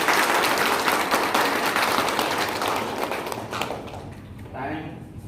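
Close, vigorous clapping from a gathering at a Brahma Kumaris centre honouring Giri Bapu, loud at first, then tapering off over the last second or so.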